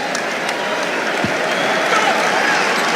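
A basketball crowd at a Miami (OH) versus Missouri game applauds in a steady, wide wash of clapping and cheering that holds evenly throughout, with commentary voices mixed in.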